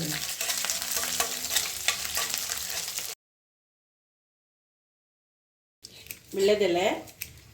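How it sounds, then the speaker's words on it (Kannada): Whole dried red chillies and spices fry in hot oil for a rice dish, a steady close sizzle that cuts out abruptly, then returns briefly beneath a voice speaking. "ಇವಾಗ ಒಗ್ಗರಣೆ ಆಗ್ತಾ ಇದೆ"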